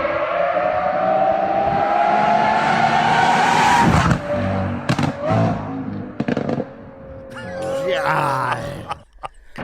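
A Lamborghini sports car passes with a loud rising engine whine, followed by sharp popping backfire bangs and crackles; a voice talks alongside.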